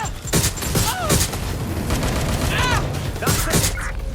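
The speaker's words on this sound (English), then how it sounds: "Taking fire." Rapid bursts of gunfire from the video game Watch Dogs: Legion, loud and close, with repeated shots and booms over a dense backdrop of game effects; faint voices mixed in.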